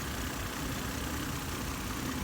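1997 Lexus ES300 engine idling, a smooth, steady, even hum at low-moderate level with no revving, heard alone without speech.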